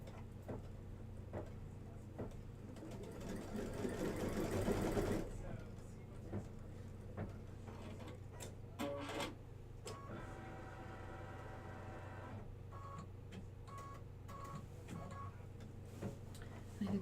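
An embroidery sewing machine stitches registration marks in black thread, a quiet, steady mechanical hum and rapid ticking with a brief louder whirring burst.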